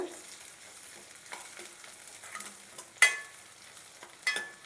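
Curry leaves and mint fry in a pan for capsicum masala curry, a soft, close sizzle with spoon scrapes and a couple of bright metallic clinks.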